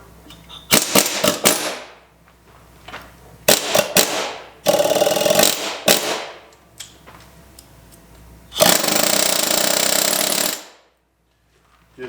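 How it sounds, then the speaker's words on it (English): An air hammer rattles in bursts against exhaust bolts on a John Deere 4850 tractor engine: several short loud hammering blasts, then longer sustained bursts, close by with pauses between. "Same thing on the exhaust. I'm gonna use the air hammer"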